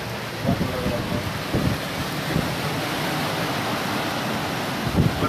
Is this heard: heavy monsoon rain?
yes